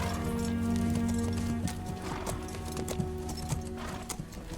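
Horse hooves clip-clop at a steady, unhurried trot, close and fairly loud, with a low rumbling score and occasional whinnies running underneath.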